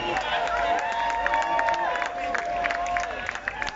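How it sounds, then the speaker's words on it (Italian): An outdoor crowd at an evening event applauds and cheers for musicians, a dense, sustained wash of clapping and voices. "allora va un grosso applauso per essere qui questa sera"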